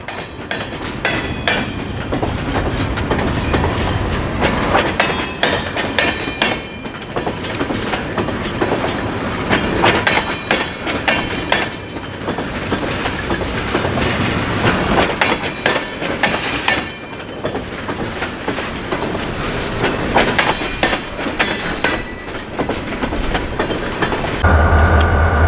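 Pan Am DO-1 freight train with high and wide loads rolling along the Portsmouth Branch in winter, a loud, continuous close rumble with clickety-clack of wheels over rail joints and occasional squeal.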